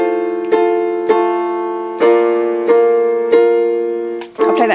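Piano playing an easy arrangement of a song, with sustained chords struck about once a second in a steady rhythm and a bass hand underneath, close and clear, with no talk.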